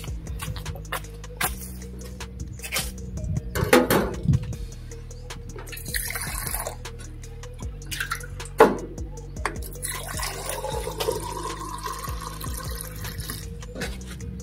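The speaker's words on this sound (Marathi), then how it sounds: "पाणी आहे बघ, त्याला पाणी पितो मी थोडं." Water runs and drips from a tap at an outdoor drinking spot at a peaceful Buddhist site, a steady trickle and splash up close with occasional louder drops and background rustle.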